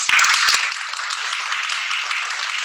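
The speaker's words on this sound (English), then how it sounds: "the real people you have to applaud are my lab members" A lecture audience applauds the lab members of a faculty chalk talk on upper motor neuron disease, a broad wash of many hands that starts with a few sharp claps and then settles into steady, moderately loud clapping.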